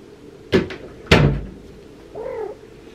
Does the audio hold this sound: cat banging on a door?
yes